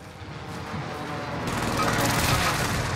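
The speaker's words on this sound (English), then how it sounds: "Allied precision airstrike incoming" Precision airstrike explosions in Call of Duty: Warzone form a dense, loud, continuous barrage of booms and rumbling blasts that grows heavier partway through, with no pause.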